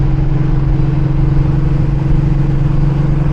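Mercedes E63 AMG engine idling rough in limp mode with cylinders shut down, a loud, steady low droning rumble with an uneven throb, close up and continuous, with no talking.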